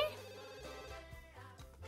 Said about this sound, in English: Also, the phone is ringing.